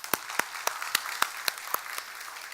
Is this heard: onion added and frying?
no